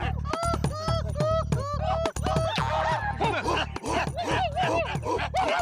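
A dog named Moti yips and whimpers in rapid, repeated bursts, close and fairly loud, with a human voice talking over the high, bending yelps in a comedic scene.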